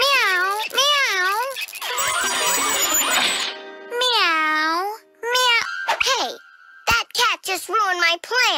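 A cat meows repeatedly in a rising-and-falling wail, loud and close, mixed with a voice imitating meows and some clattering noise, with a few short sharp cries near the end.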